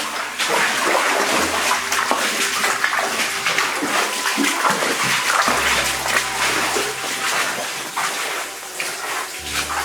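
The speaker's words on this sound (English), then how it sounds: "See all the water coming down, look." Rainwater pours down inside an underground passage, a loud steady rush and splatter of falling water that echoes and fills the whole stretch, with no one talking.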